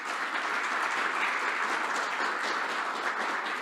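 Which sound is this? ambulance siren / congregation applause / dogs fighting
congregation applause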